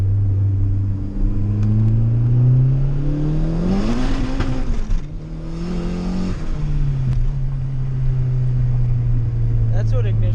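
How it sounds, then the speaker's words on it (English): Turbocharged Honda Integra GSR engine revving hard under boost and hitting ignition cut, the steady drone climbing then stuttering and dropping before settling into a loud idle-like rumble, with people talking over it. "That's what ignition cut sounds like."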